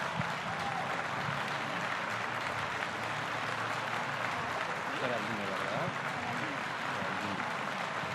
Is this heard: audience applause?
yes